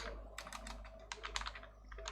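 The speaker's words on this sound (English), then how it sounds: "we need to type restorecon" Quick, light keystrokes tap out a command on a computer keyboard in short irregular bursts, soft and close against a quiet low hum.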